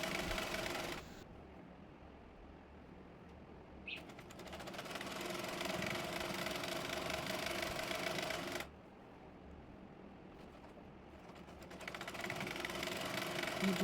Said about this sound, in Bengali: এবার রাবারটির মাঝখানে একটি টেনে ধরে সেলাই দিয়ে নেব।